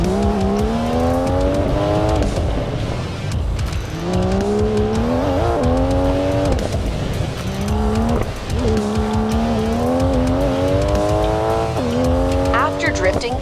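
A race car in the Racing Master game revs hard coming out of a drift, its engine climbing repeatedly with tire squeal, loud and continuous under steady talking.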